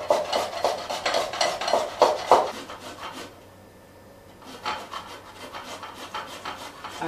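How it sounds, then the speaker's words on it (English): A peeled carrot is coarsely grated into a bowl for coleslaw, a run of quick rhythmic scraping strokes, a short lull, then softer rasping resumes close by without speech. "probably easier if we grate from the fat end, isn't it? And just grate that in."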